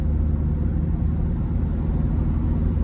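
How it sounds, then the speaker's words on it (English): A 2000 Nissan Frontier XE King Cab pickup with a naturally aspirated 2.4-liter four-cylinder drives on the road, its steady, close, low engine drone and road rumble continuous with no talk. "let's go ahead and take this 2000 Nissan Frontier XE out on the road for a test drive"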